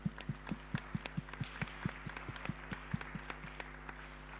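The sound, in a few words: audience applause for the panel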